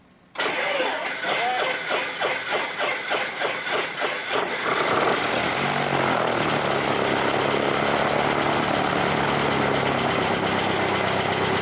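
Lake amphibian propeller airplane taxiing on a lake, its engine catching with a rapid chugging pulse, then settling into a loud, steady propeller drone close by.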